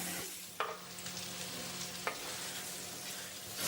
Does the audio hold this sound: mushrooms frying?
yes